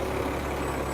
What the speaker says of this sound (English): I have a really loud bus right next to me